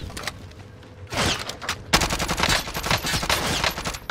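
Gunfire from the Call of Duty Modern Warfare video game: sparse shots at first, then a loud burst and sustained rapid automatic fire with many closely spaced cracks.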